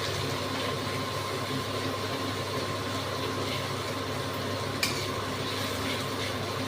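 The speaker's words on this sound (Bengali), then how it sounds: "ভালো করে ভাজি সুন্দর করে" Chopped onions frying in a pan for Bengali mutton kosha, a steady close sizzle and crackle that holds evenly throughout with one faint clink near the end.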